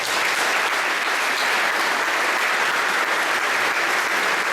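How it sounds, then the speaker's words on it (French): Steady, sustained applause from a crowd at an amateur rugby awards ceremony, dense clapping at an even level throughout with no voices standing out. "On l'applaudit."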